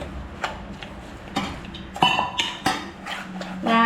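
Spoon stirring rava idli batter with melted jaggery in a bowl, giving irregular close clinks and scrapes of utensil against the dish, with no talk.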